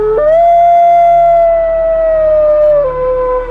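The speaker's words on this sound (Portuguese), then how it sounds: "acordei no meio da noite com um uivo que gelou minha alma" A long, wavering howl with a rising onset and a drop near the end, loud and close, eerie and sustained with no other sounds.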